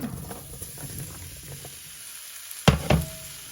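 Low sizzling and frying crackle as apples cook in a pan, then a couple of sharp clatters near the end as food is stirred or dropped in.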